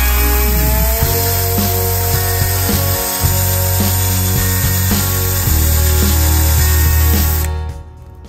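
A power drill bores a hole through a Honda Goldwing upper air deflector on a 2018 Goldwing, a loud, steady whine with a constant motor drone that cuts off near the end.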